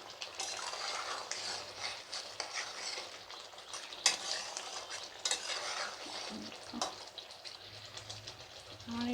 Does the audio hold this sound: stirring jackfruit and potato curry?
yes